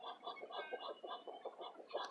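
Free-range farm poultry, roosters and geese, clucking nearby in a steady run of quick rhythmic calls, fairly quiet and unbroken across the moment.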